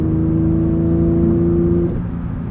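A 2023 Porsche 911 GT3 with a manual gearbox and flat-six engine derived from the GT3 Cup car, revving hard with a loud, rising harmonic wail that holds then drops off as it shifts near the end.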